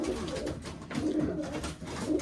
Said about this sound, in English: So these are my cockbirds.